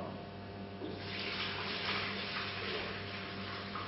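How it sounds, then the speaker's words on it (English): Water poured steadily into the reservoir of a homemade Aqualibrium water-flow rig, a continuous close splashing and rushing stream that swells slightly midway. "we simply add some water"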